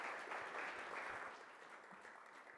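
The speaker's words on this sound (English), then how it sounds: "Give him a round of applause." Audience applause at a product marketing summit in Las Vegas, a steady dense wash of clapping that holds throughout and eases slightly toward the end, with no talk over it.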